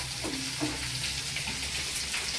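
Curry leaves and chana dal frying in hot oil, a soft continuous sizzle with a few faint stirring touches, close up and fairly quiet, with no voices.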